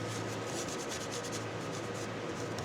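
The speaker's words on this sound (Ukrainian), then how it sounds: "Беремо пластикову карточку, обережненько так проходимо по краям, знімаємо." Old thermal paste is scraped off an Acer Aspire 7 A715-42G laptop's components with a plastic card, a soft, close, continuous rubbing scrape with faint rhythmic strokes.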